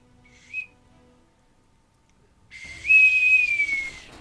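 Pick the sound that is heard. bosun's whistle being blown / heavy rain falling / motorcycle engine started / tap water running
bosun's whistle being blown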